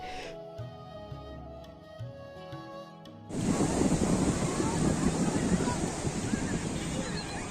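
Wind sweeps the sea shore at Puri beach, roaring loudly across the microphone along with broad, steady surf, after a quieter opening with a soft tonal background.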